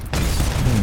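Grenade blast in the shooter game Ballistic Overkill, a single loud booming burst that erupts suddenly and rumbles on for under a second, with no talking.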